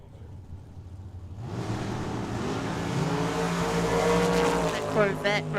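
A dragster and a Corvette Roadster launch side by side at Tucson Dragway, engines rising from near silence into a loud, sustained roar with tire noise, growing louder toward the end while a commentator's voice carries over the track.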